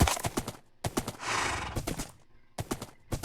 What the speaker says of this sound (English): I'm just going to have to ride the horses over there